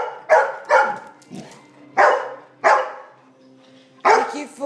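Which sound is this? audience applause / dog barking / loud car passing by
dog barking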